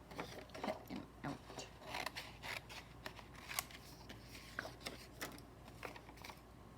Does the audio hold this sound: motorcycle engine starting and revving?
no